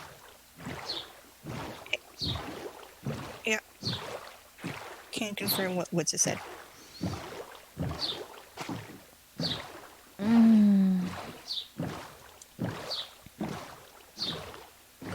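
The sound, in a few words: boat rowing through water in the video game Minecraft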